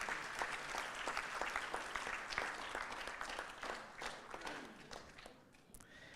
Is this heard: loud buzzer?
no